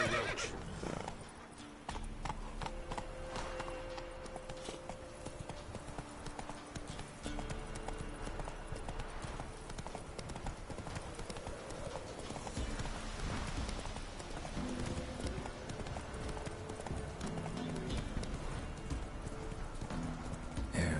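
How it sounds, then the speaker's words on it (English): A horse in the video game Witcher 3, hooves clip-clopping steadily and close with occasional neighs, over game ambience and without speech. "Whoa there, Roach"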